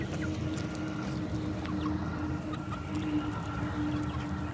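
A Sussex rooster and other chickens in a yard, clucking softly at intervals over a steady low outdoor hum, with no talk.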